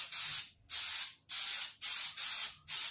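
A spray can applying galvanized paint to a metal fence, with five loud, close bursts of hissing spray separated by short gaps, each burst lasting about half a second.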